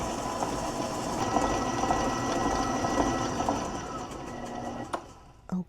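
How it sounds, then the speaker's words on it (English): An electric mixer creams half a cup of butter with a cup of sugar for a pistachio cake, a steady close mechanical whir that runs throughout, then fades and stops with a few clicks near the end. "And right now I am creaming the butter, half a cup of butter with 1"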